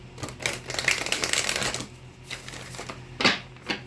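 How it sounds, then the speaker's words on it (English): Tarot cards from a Dust to Onyx deck being shuffled up close, a burst of riffling rustle and flicking followed by a pause and a few sharper card snaps, with no talking. "Let me get you some good shuffles in"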